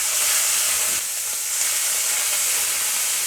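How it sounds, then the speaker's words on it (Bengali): Onion paste fries in oil with white and black mustard seeds in a pan, giving a steady, bright sizzling hiss that fills the whole stretch at an even, fairly loud level. "এখন আমি পেঁয়াজ বাটাটা ভালো করে ভেজে নিয়ে তারপরে অন্য মশলাগুলো দেবো"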